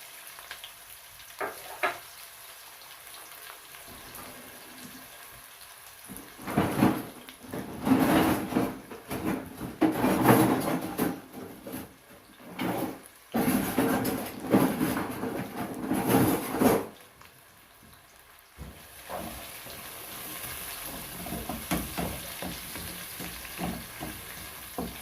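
Chopped onions frying in a pan for a beans and cabbage stew and being stirred, with a steady sizzle and louder bursts of scraping and stirring that come and go across the clip.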